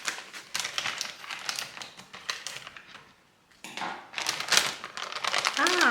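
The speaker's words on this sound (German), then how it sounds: "Meine Schere, ich mache mal auf." Scissors snip and crinkle open a plastic package of Reese's Minis peanut butter cups, a run of close, crisp rustling and cutting sounds with a brief pause midway.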